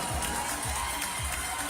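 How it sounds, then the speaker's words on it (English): A crowd at a live pageant grand finale cheers and claps, a bright, continuous wash of noise with shouting mixed in across a short burst. "Let's give them a big round of applause."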